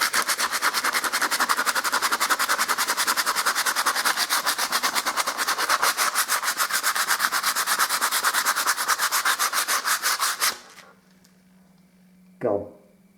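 Plaster on a picture rail is sanded by hand in fast, even back-and-forth strokes, loud and close, for about ten seconds before stopping, followed by a short knock.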